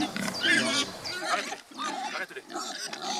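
Pigs grunt and snuffle on an organic farm plot rotated with crops, a run of close, rough calls over about three seconds with squeals and snorts.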